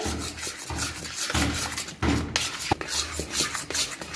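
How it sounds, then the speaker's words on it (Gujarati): Medu vada batter is beaten vigorously by hand in one direction in a bowl, a close rhythmic squelching rub repeating every half second or so. "આપણે એક જ ડાયરેક્શનમાં સખત પાંચથી આઠ મિનિટ સુધીને આને આ રીતના મિક્સ કરવાનું છે"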